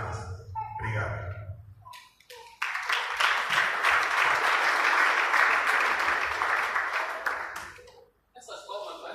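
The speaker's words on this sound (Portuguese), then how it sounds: "Essas palmas parece que está a dizer que não queremos." Applause from an audience at a church gathering swells into a steady burst of clapping lasting several seconds, with talking heard just before and after it.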